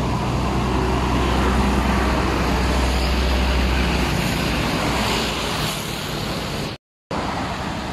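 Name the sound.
Hino tronton box truck passing on road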